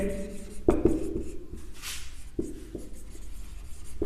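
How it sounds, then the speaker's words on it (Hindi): Chalk or marker writing out a statement on a board in a physics class, a series of scratchy, tapping strokes with brief pauses between letters, close and clear, with a faint voice occasionally in the background. "तो चलिए मैं इसकी स्टेटमेंट लिखता हूं।"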